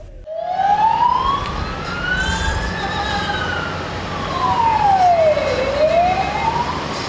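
A police siren wails in long rising and falling sweeps, loud and fairly close, over the rumble of passing traffic, leading a funeral procession in Chernivtsi.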